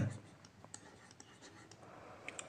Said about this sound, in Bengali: যদি কথাটা লিখি ডজন